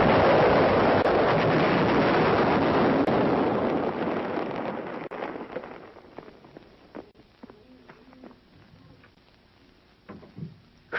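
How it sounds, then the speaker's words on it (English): Little David 914 mm mortar firing shells with instantaneous fuses, starting as a loud, broad rumbling blast that slowly decays over several seconds and fades into faint wind and scattered small noises. "All firing in this demonstration is with instantaneous fuse setting."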